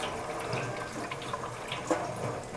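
Lukewarm tap water runs steadily over gluten dough being rinsed by hand in a sink, a continuous close splashing flow with small drips and sloshes.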